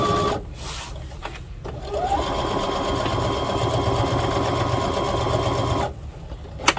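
A sewing machine runs a steady, continuous stitching burr along a narrow eighth-inch seam on fabric for a garden kneeling pad, starting after a brief pause and stopping near the end; close and loud with no talking.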